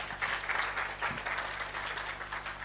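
A demo day audience claps for a presenting team, a moderate, fairly distant patter of applause that stays steady throughout, with a low hum in the background.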